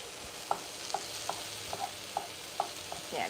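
Shrimp and broccoli fry with garlic in a pan under a soft, steady sizzle, punctuated by about eight light utensil taps and scrapes at a roughly even pace.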